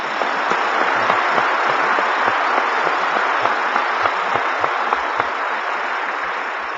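A church congregation applauds together, a steady, dense wash of clapping from many hands filling the room at even loudness throughout.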